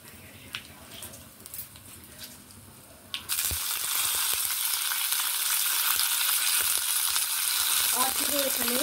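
Dried red chillies and curry leaves hit hot oil for an Andhra-style tomato dal, a quiet stir giving way to a sudden loud, steady sizzle that crackles on, with light clinks near the end.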